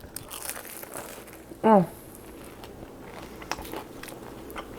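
Biting into a crispy deep-fried chicken taquito with a light tortilla gives one brief, close crunch alongside a short voiced exclamation, followed by faint crackling.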